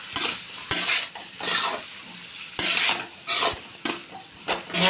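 Gobi noodles with salt being stirred and tossed together in a pan, with repeated scraping and clinking strokes of a spoon against the metal in short bursts, close and fairly loud, with no talk.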